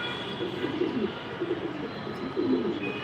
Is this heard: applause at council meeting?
no